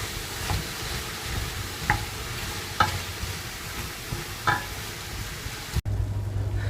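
Garlic-powdered food sizzles steadily in a frying pan while a utensil stirs it, scraping at irregular moments, with a sharp clack near the end before the frying continues.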